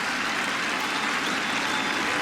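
Indian fans in a Test cricket crowd at the 2018 England v India fifth Test cheer and applaud a six, a dense, steady roar of clapping and cheering with no break.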